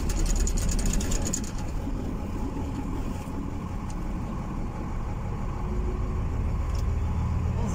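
A car drives along a village street in a Russian stanitsa, its engine and tyres giving a steady low rumble close by, with faint rattles and no talking.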